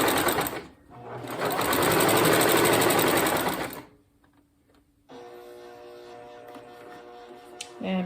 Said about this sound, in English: So this is a new home Janome sewing machine that I got at Joann's that I'm using.